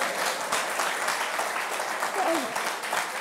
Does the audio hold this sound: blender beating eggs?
no